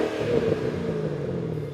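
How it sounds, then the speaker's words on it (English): Ford Mustang GT500 fitted with a Borla Touring axleback exhaust revs in a steady, deep engine rumble, heard close and alone. "the Borla Touring Axleback Exhaust"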